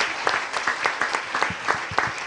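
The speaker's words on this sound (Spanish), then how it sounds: "Aplaude al Señor" A church congregation applauds in steady, rhythmic unison during an evening service, a full wash of many hands clapping together with regular beats and faint voices underneath.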